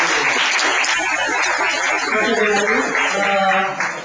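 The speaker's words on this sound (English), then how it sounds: "Once more, give applause to Professor." A lecture hall audience applauds a visiting professor at a university economics faculty, loud, close clapping that stays dense and continuous throughout, with some talking mixed in.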